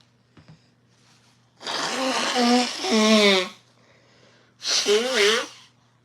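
After a soft click, two loud, drawn-out vocal bursts with wavering tone ring out close by, separated by a short pause, over a steady low hum.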